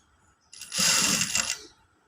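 A sewing machine stitches part of a katori blouse in one quick burst of roughly a second, a close, steady whirring hum that starts and stops abruptly against near silence.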